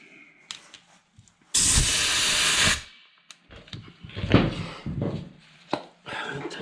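A compressed air line blasts a loud, steady hiss for about a second while the wheel comes off a 1999 Volkswagen Beetle during a CV axle replacement. Scattered clanks and knocks of tools and parts follow nearby.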